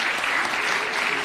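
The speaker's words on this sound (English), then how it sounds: "A really warm round of applause for His Excellency." Warm applause from an audience for the Kenyan President, steady clapping filling the whole moment with no voices over it.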